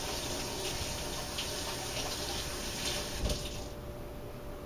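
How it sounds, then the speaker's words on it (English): Hands are rinsed under a running kitchen tap, a steady soft rush of water that thins out near the end. "Now I'm going to rinse my hands real quickly"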